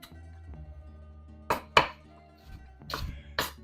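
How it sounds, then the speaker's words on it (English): A few sharp knife strikes dicing shallots on a cutting board, irregular and close, over a low steady hum. "we're just going to dice these shallots"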